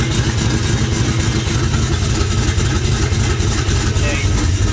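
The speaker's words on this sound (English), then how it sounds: "That V8 rumble." A V8 engine in an LS-swapped mini truck idling with a steady low rumble that shakes the body, loud and continuous, with people talking over it.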